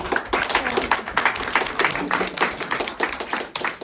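Audience applause at a Monmouth County political rally, a dense, steady burst of many hands clapping at once, fairly close and loud, continuing without pause and without any talk.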